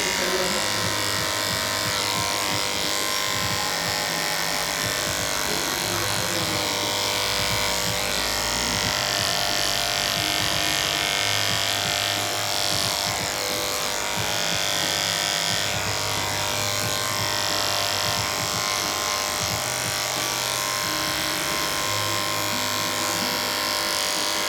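An electric hair clipper with detachable blades buzzes steadily and continuously throughout a haircut, with slight shifts in pitch as it moves, fairly close and loud.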